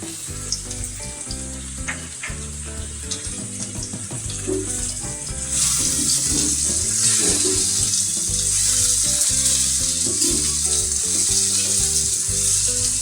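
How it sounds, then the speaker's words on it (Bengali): Thick-cut onion goes into frying okra, which sizzles continuously under background music, growing louder and denser partway through. "পেঁয়াজটাও কিন্তু এইভাবেই ডুবো করে কাটা একটু মোটা মোটা এই পেঁয়াজটা এবার আমি এর মধ্যে মিশিয়ে দেবো"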